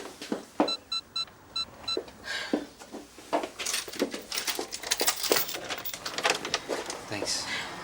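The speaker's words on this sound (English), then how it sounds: "I'll just turn the alarm off." A household alarm beeps in a quick series of high electronic tones at the start, followed by a run of clicks, taps and rustling movement close by.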